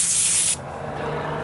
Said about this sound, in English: Spray some brake cleaner on some paper towels or a shop rag.